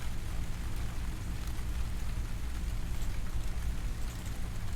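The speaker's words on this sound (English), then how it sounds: "Please enjoy the sound of rain in the meantime." Steady rain played back from an app, a constant dense hiss of falling drops with a low rumbling undertone, even and unbroken throughout with no voices.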